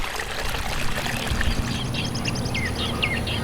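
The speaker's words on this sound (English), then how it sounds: "The soothing splish-splash of water." Steady splashing and trickling water fills the scene at the National Butterfly Center, with chirping birdsong layered over it toward the end.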